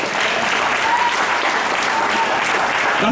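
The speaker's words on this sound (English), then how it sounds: "Clap your hands unto the Lord." A church congregation claps loudly and continuously during a Sunday service, with dense, even applause filling the room.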